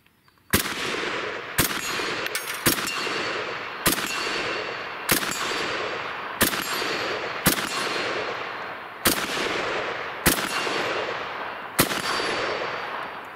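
Norinco Type 56 SKS rifle fired in a quick string of about ten sharp, loud shots at roughly one-second intervals, each cracking report trailing into a long outdoor echo.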